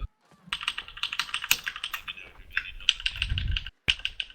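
Rapid, loud clicking of a computer keyboard being typed on close up during an online game session, dense bursts of keystrokes with a brief pause near the end.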